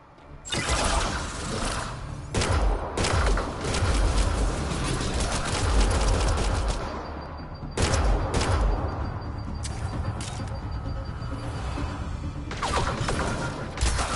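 Continuous heavy gunfire rattles through a firefight in Mass Effect Andromeda, loud and dense with brief pauses between long bursts.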